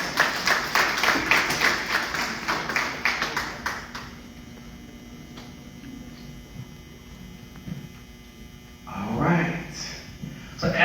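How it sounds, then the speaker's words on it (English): Audience applause for a political candidate at a Democratic primary candidate forum in Perry County, Alabama, a dense clapping burst that fades after about four seconds, leaving room hum and murmur, then a brief swell of clapping near the end. "round of applause"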